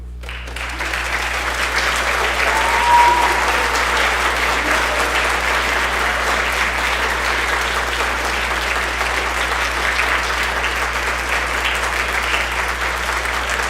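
Sustained audience applause for an award recipient at a school jazz band and orchestra concert, a steady dense wash of clapping that swells slightly early on and holds evenly for about fourteen seconds.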